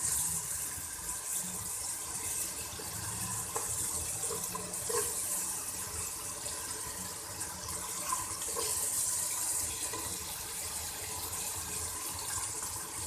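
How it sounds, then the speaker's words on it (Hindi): Chicken pieces go into a pan of fried masala spices for a chicken shaljam curry, giving a steady, close hissing sizzle with wet crackle that runs throughout. "अब मैं इसमें डाल देती हूँ चिकन।"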